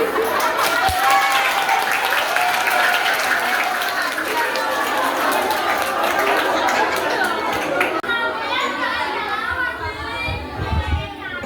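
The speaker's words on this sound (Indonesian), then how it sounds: "Beri tepuk tangan yang meriah" A classroom of students applauding at a micro-teaching practice session, brisk clapping mixed with lively chatter and children's voices, fading as the talk continues alone near the end.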